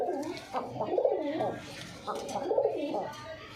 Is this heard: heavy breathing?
no